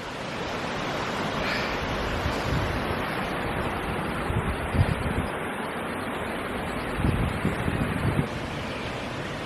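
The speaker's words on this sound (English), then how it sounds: "You can already hear the river" Steady rushing water of a river or stream near Lake Waihola, New Zealand, fills the background with a constant broadband roar and a few louder surges.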